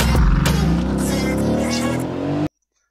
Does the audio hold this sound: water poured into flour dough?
no